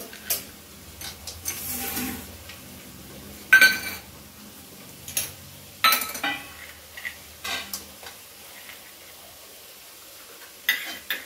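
Crushed cashews, almonds and raisins being stirred into bottle gourd halwa in a pan, with scattered metallic spoon clinks and scrapes against the vessel in irregular bursts, fairly close and otherwise quiet.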